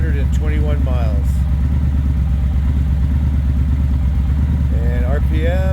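A Triumph Speedmaster 1200 motorcycle idles steadily at close range, a low continuous engine rumble running throughout, with someone talking over it at the start and end.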